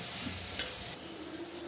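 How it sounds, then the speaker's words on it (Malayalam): Crushed ginger and garlic sautéing in a pan for chicken curry, a short steady sizzle with a brief stirring scrape midway, close and fairly soft. "അതിലേക്ക് ഇഞ്ചിയും വെളുത്തുള്ളിയും ചതച്ചിട്ട് കൊടുക്കാം. നല്ല രീതിയിൽ വഴറ്റിയെടുക്കാം."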